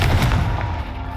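A Confringo fire spell blast in the Hogwarts Legacy video game erupts as a loud, brief burst with a booming, gunfire-like crack, then dies away into a rumbling tail.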